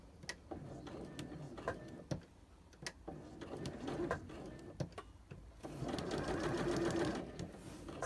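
A sewing machine stitching a curved skirt pocket seam in short bursts, with sharp ticks and clicks between runs as the fabric is repositioned, then a longer steady whir near the end.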